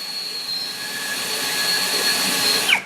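A Lucid LX-60 cordless drill running with a 10 mm bit, a loud, steady high-pitched motor whine held under load for nearly three seconds, then briefly rising in pitch near the end.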